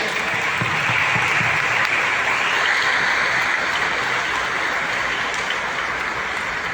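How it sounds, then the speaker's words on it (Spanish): Steady applause from a church congregation during a Catholic Sunday Mass, a dense wash of hand claps filling the room at a constant loudness throughout. "también yo quiero que le demos aplausos"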